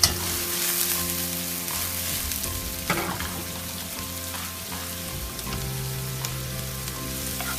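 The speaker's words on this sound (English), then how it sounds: "I'm going to put in half the spring onions and give this a nice toss." Spring onions with white mushrooms tossed and sizzling in a pan for Hakka chilli gobhi, a continuous close frying hiss with clattering toss and stir noises, no talk.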